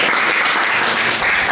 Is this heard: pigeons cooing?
no